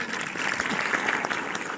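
A cinema audience at a film premiere screening in Orléans claps steadily for a short burst, a dense, fairly distant patter of many hands with no voices.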